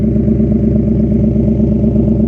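A 2026 Ford Mustang GT with a 5.0-litre V8 and active exhaust holds a deep, loud, pulsing burble at idle, heard close up and alone.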